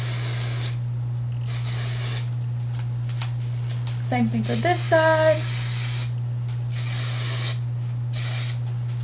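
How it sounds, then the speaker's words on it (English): Hairspray hisses from an aerosol can onto hair being styled into beachy waves, several long sprays in bursts over a steady low hum, with someone speaking briefly in between. "Start letting the hair fall and spraying it up."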